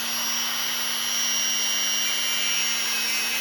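Homemade rotary tool spinning at about 5000 rpm while polishing a knife blade, a steady close high-pitched whine with a constant tone and even loudness throughout, no voices.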